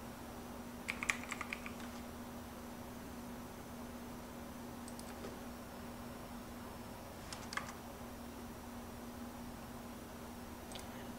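Light keystrokes on a computer keyboard come in a few short bursts of clicks over a quiet hum, separated by long pauses.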